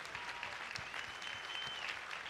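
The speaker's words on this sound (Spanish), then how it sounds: "Y dele ese aplauso fuerte al Señor" A church congregation applauds at a religious congress, a steady dense wash of clapping held evenly throughout with no speech on top.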